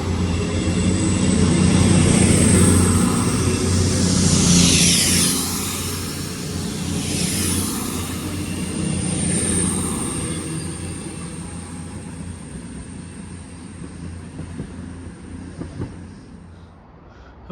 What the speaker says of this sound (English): here comes the 1021 cross country service to Manchester Piccadilly from Bristol to Temple Meads